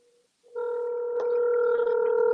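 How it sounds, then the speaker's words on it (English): A telephone dial tone hums steady and clear after a brief quiet start while a number is being called back, holding as a constant electronic tone with one small click partway through and no voices. "I'm gonna call this number right back."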